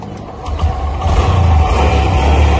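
A KTM motorcycle engine starts after a brief quiet moment, then holds a loud, close, steady roar with rising revs, alone with no talk over it.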